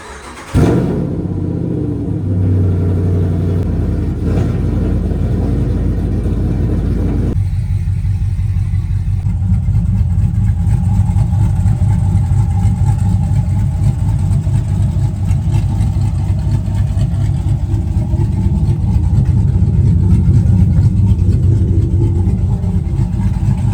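A Ram 1500 pickup truck engine cranks and fires up close by, then settles into a loud, steady idle that rumbles on for over twenty seconds with no talking.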